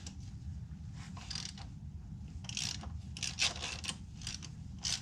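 Ratchet wrench with an 8mm socket working loose the transmission pan bolts on a Pontiac Grand Am, giving bursts of close clicking and metallic scraping over a steady low hum, with no talk.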